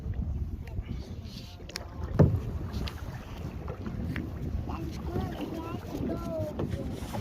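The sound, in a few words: kayak moving on water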